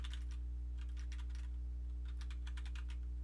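Fingers type on a computer keyboard in two quick bursts of clicking keystrokes, separated by a short pause, over a steady low electrical hum.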